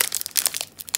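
Crinkly plastic foil wrapper of a Magic: The Gathering Brothers' War booster pack being torn and opened, with close, quick bursts of crackling and rustling in an uneven rhythm over about a second.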